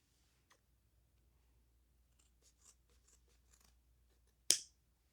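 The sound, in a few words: scissors cutting a damp sponge into long pieces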